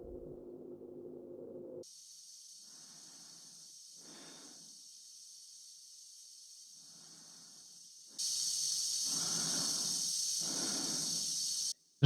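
An astronaut breathing inside a spacesuit in the 1968 film 2001: A Space Odyssey: a slow rhythmic series of about five breaths over a steady high hiss, which grows louder near the end.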